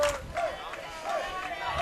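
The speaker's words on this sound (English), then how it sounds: "Bishop Moore crowd getting into this game now" Bishop Moore's crowd at a high school baseball regional final against Jensen Beach, a steady wash of distant cheering and chatter with brief high calls or whistles rising above it, swelling slightly toward the end.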